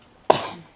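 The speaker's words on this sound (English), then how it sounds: "excuse the cough" A single short, sharp cough from one person, close and fairly loud, trailing off quickly into quiet.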